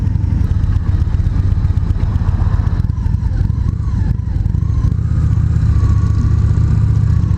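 A Victory Magnum motorcycle with a 21-inch front wheel rides at low speed, its engine rumbling steadily and close throughout, with a slight rise in pitch near the end and wind noise over it.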